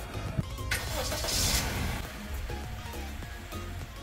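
A 2018 Honda BR-V engine runs nearby, a low steady hum that swells briefly as it revs, with a few faint clicks and thumps.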